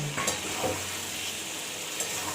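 Aloo karahi, a potato curry, frying in a pan over a high flame, with a steady loud sizzle and occasional spoon stirs and scrapes against the pan, close up.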